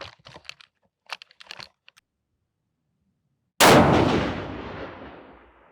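A single loud 7mm PRC rifle shot on a Defiance Anti-X long-action build at an outdoor range, ringing out and fading over a couple of seconds after a few light clicks and taps.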